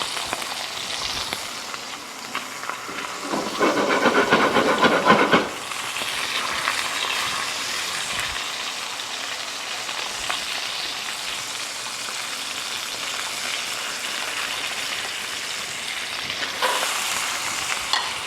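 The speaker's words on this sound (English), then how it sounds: "I'm gonna start the butter baste. A couple tablespoons of butter on top." Steak sizzles in a hot pan under a butter baste, a steady loud frying hiss with a brief louder burst of spattering partway through and no talking.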